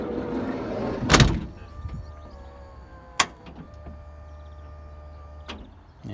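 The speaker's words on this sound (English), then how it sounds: "So now when I close the door," A Mazda Bongo van's sliding door slams shut with a loud thud and rattle, followed a couple of seconds later by a sharp click and a fainter knock in a quiet setting.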